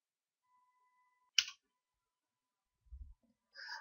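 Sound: pressing the enter key on a keyboard

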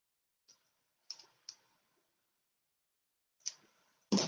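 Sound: trimming the ends of ribbon for a card

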